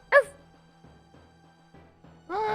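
A dog gives a single sharp yip-like bark at the start, followed by quiet low rumbling noise, then a louder whining, voice-like sound near the end that may be a person imitating a dog.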